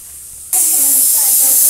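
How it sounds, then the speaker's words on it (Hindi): Pressure cooker on an induction stove, venting steam in a sudden loud, steady hiss that begins partway through and keeps going, close by. "तो दोस्तों देख सकते हैं अभी कुकर चढ़ा है इंडक्शन पे"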